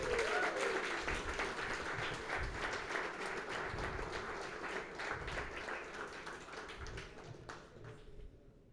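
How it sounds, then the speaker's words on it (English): Audience applause at a live hackathon results ceremony, a sustained patter of many hands clapping that holds steady for several seconds and then thins out toward the end, fairly quiet overall. "come on, claps"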